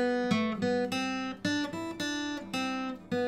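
Guitar riff played an octave higher, a bright repeating pattern of ringing single notes and double-stops picked in a steady rhythm, close and clear with no talking.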